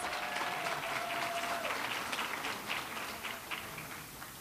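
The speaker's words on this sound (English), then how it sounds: "Give him a round of applause" A crowd applauds steadily at the Boston Public Schools valedictorians luncheon, a dense wash of clapping that fades slightly toward the end.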